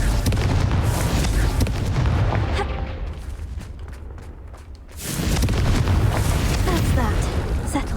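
A fiery Confringo spell blast in the video game Hogwarts Legacy, loud booming rumbles that dip briefly and then surge back into a heavy, sustained explosive roar.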